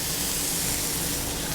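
Shrimp and large cherry tomato pieces sauté in a hot pan with garlic, giving a loud, steady sizzle and hiss that fills the brief moment without any talking.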